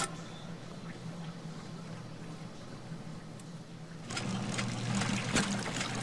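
Steady water trickles and flows in a sewer channel inside the Sherlock Holmes: The Devil's Daughter video game, then grows louder and splashier as the water level rises.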